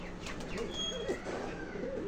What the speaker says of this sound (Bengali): কবুতরটা আমার খামারের সবচেয়ে ফেভারিট কবুতর